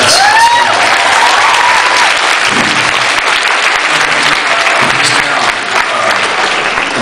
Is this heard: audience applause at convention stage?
yes